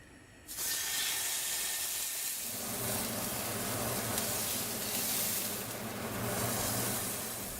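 A piece of steak cooking in a pan starts sizzling abruptly and keeps up a loud, steady hiss and crackle up close, with no talk.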